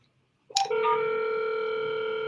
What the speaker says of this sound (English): we hear your phone ringing, but we don't hear you